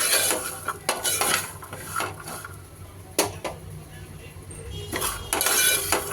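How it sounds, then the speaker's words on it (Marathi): Dry fruits being roasted in a pan for homemade baby cereal, with a utensil clinking and scraping against the metal in irregular bursts. A faint sizzle sits underneath. "ड्रायफ्रूट्स पण आपण गोल्डन ब्राउनिश कलर येईपर्यंत फ्राय करणार आहोत।"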